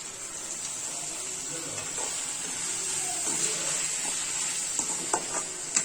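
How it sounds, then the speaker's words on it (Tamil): Chopped tomatoes with green chillies for egg keema frying in a pan, a steady hiss of sizzling with soft stirring scrapes and a few clicks of a spatula near the end. "இப்போ தக்காளி பழம் சேர்த்துக்கலாம்."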